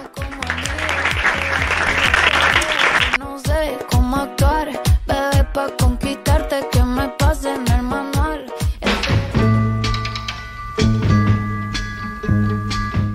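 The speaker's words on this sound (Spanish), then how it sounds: "Un fuerte aplauso para los ganadores" Applause for the winners on a Spanish radio programme, a burst of dense clapping that gives way to sharp, rhythmic hits and then music.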